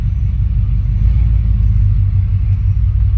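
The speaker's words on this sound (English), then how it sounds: "This is a 95 Chevrolet OBS pickup" A 1995 Chevrolet OBS Z71 pickup with throttle-body injection cruising, a steady low engine rumble and road drone heard from inside the cab, continuous and fairly loud with no talk.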